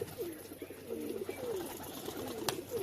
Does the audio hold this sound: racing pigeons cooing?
yes